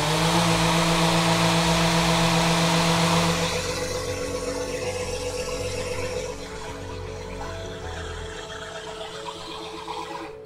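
Power sander running a Merca 80 grit sandpaper disc on wood, a steady loud whirring grind that softens partway through as the disc spins down, heard alone.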